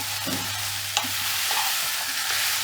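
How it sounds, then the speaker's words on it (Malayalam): Ivy gourd stirred in a hot pan, a steady close oil sizzle running throughout with soft scraping strokes of the spoon and one brief clink, no talking. "കോവയ്ക്ക് നന്നായി മിക്സ് ചെയ്ത് കൊടുത്തിട്ട് നമുക്കൊന്ന് മൂടി വയ്ക്കാം"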